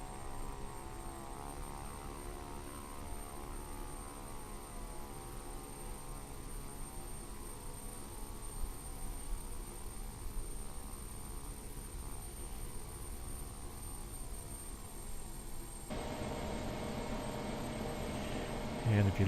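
A propeller aircraft preparing to take off from a runway among mountains, its engine droning steadily throughout and growing louder and rougher near the end as power comes up.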